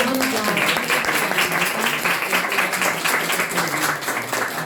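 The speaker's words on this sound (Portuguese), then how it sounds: "Palmas para a Ana." Warm, continuous applause from an audience at a Women's Day art and culture event, many hands clapping in a dense, even wash for several seconds.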